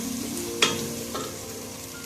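Onions and tomatoes sauté in a pan with a soft steady sizzle, broken by one sharp scrape or clatter of a spoon and a fainter second one, close up.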